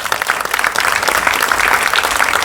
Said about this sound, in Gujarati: સો પ્રોડ્યુસર્સમાં તાળીઓનો ગડગડાટ ચાલુ રાખજો.